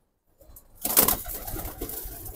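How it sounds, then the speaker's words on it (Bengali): Military breed pigeons coo close by in a loft, soft throaty calls starting after a quiet moment and continuing over light rustling, with no talk. "অনেক দাম দিয়ে এই মিলিটারি কবুতরগুলো কালেকশন করছিল"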